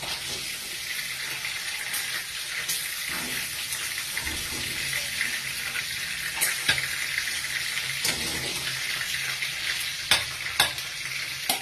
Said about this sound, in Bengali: এক খোলা ভাজা হওয়ার পর আর এক খোলা ভেজে নিচ্ছি